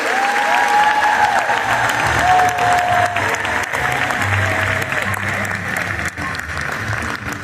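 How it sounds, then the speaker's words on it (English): Seminar audience at a Mary Kay event stands and applauds the top 20 beauty consultants of the Queen's Court of Personal Sales, loud sustained clapping with some cheering under music and an announcer's voice. "Let's stand and applaud our top 20 in the Beauty Consultants Queen Court of Personal Sales"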